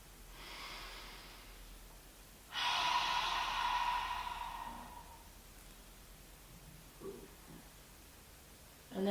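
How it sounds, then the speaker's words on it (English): A person in a yoga session takes a slow, deep breath in through the nose and lets it out through the mouth. Both are soft, airy sounds, close by and quiet, followed by a faint rustle. "Let's just take a deep breath in through the nose and out through the mouth."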